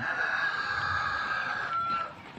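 Large Rhode Island chickens cluck and call in a farmyard, a steady, fairly close flock sound with one longer drawn-out cry near the end and no talking.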